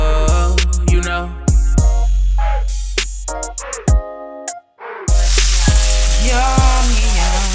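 Pork chops frying in a pan, loud close sizzling broken by sharp clacks and knocks of handling, with a short quiet gap before the sizzle surges back.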